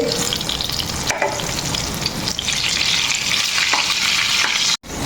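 Eggplant frying in a pan gives a loud, dense, steady sizzle with faint stirring scrapes mixed in, close and continuous, briefly cutting out near the end.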